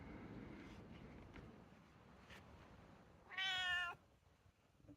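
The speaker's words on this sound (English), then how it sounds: "And here comes the cat to help." A cat lets out a single clear, fairly close meow lasting about half a second, heard in a quiet outdoor space beside a Tata Xenon 2.2 litre Dicor undergoing a MAP sensor repair, with faint wind and low background rumble.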